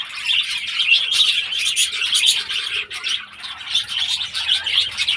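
A flock of pet birds that have just bathed chirps and tweets continuously. Their bright, busy calls overlap throughout, with occasional wing flutters nearby and no talking.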